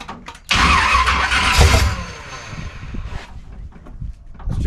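A 1969 Chevy Nova fitted with a 350 small-block V8 cranks briefly and then catches, roaring loudly before settling into a rough, uneven idle close by.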